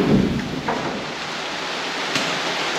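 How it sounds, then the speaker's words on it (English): Steady rain hisses continuously, with a low rumble at the start and a brief sharper patter near the end. "It's raining."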